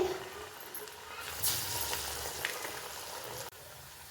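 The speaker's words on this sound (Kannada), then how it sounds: "ಕಡಲೆಬೇಳೆ ಎಲ್ಲ ಒಂದೊಂದಿರೋದೆಲ್ಲ ಚೆನ್ನಾಗಿ ಎಣ್ಣೆಯಲ್ಲಿ ರೋಸ್ಟ್ ಆಗುತ್ತೆ ಫ್ರೈ ಆಗುತ್ತೆ" Chana dal vada frying in hot oil makes a soft, continuous sizzle and crackle with faint bubbling, fairly quiet and steady throughout.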